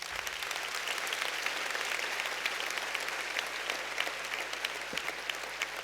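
Steady applause from an audience fills the room after a testimony, even and sustained throughout, with one brief low thump near the end.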